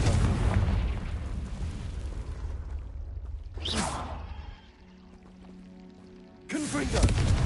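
Confringo blasting spells go off in Hogwarts Legacy: a loud rumbling blast fades, then a sharp whooshing burst strikes, a quieter lull follows, and another blast erupts at the end.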